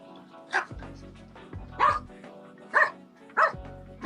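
A dog barks four times with gaps of about a second between barks, loud and close, with a faint low hum underneath.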